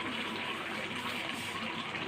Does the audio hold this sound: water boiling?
yes